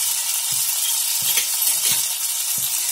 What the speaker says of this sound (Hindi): तेल हमारा गर्म हो चुका है। अब इसमें डालेंगे सबसे पहले अदरक।